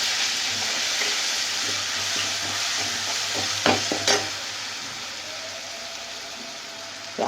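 Browned onion with garlic paste sizzles steadily in a pan, a constant close frying hiss broken by a few sharp spatula scrapes and stirring clacks near the middle.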